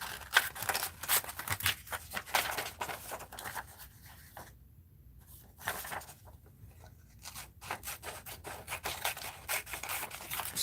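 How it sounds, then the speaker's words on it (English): Scissors cut Scrimshaw pieces out of paper for a mixed-media art journal, producing quiet, close snips and rustling paper scrapes in an irregular rhythm with a few short pauses. "Let's cut these out here."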